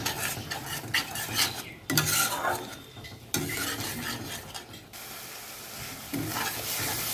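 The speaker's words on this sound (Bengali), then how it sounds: "একটু সামান্য পরিমাণে দিয়ে দেবো গরম জল এবার ভালো করে মশলাটাকে কষিয়ে নেব" Spice paste loosened with a little hot water frying and being stirred in a pan, a steady sizzle broken by scraping strokes of a spoon against the metal, close and fairly loud, with no talking.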